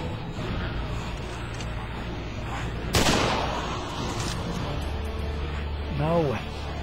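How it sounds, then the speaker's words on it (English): Shots fired from a raised position in The Walking Dead: Survival Instinct, a zombie survival video game, with a sharp burst near the middle over a steady low rumble of game ambience. "Shooting from up here, dude."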